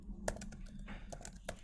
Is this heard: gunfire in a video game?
no